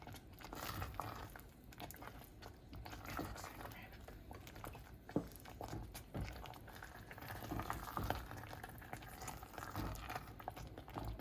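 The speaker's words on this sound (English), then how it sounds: "Hear the little pops of the bubbles going on" Peanut brittle candy mixture boils in a pan while being stirred, giving a steady close bubbling with many small scattered pops and crackles throughout.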